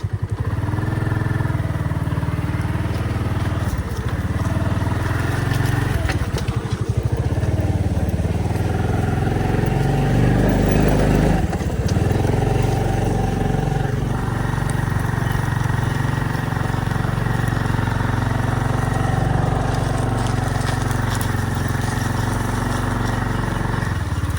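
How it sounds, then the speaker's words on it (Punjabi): A motorcycle engine runs steadily at idle throughout, a continuous low rumble with light mechanical clatter, close and loud. "ਆਪਣਾ ਮੋਟਰਸਾਈਕਲ ਸਟਾਰਟ ਆਪਾਂ ਕਰ ਲਿਆ"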